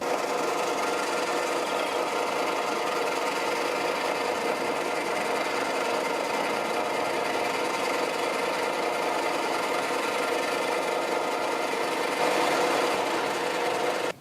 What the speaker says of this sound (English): we'll see how we go with this 3-flute slot drill